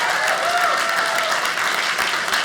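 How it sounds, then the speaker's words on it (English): Dense, steady applause from a comedy club audience at a Dry Bar Comedy stand-up show in Utah fills the room, close and continuous for a couple of seconds with no talking over it. "So round of applause for all our dry bar people that bring this to you."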